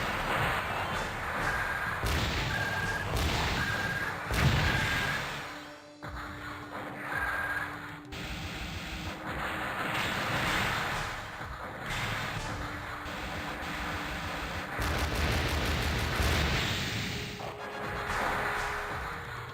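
Leg missile explosions in Mobile Suit Gundam Side Story: The Blue Destiny, repeated crashing blasts and thuds amid game alarms and mech noise, moderately loud bursts spread across the stretch.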